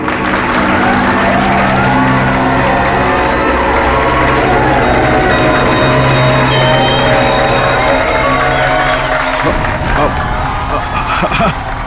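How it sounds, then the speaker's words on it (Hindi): An audience at a magic show bursts into sustained applause and cheering, a dense, loud wash of clapping and crowd noise blended with music and a voice, shifting near the end. "तालियां!"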